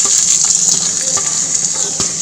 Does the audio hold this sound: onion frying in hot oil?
yes